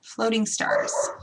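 A dog barks and yips loudly during an indoor live craft broadcast, cutting over a woman's speech in a short burst.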